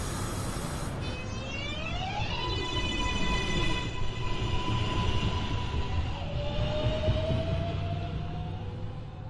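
An NYC Subway 2 train at the elevated 215th Street station gives out a rising, stepped electric motor whine over a loud, steady rumble of wheels and rails.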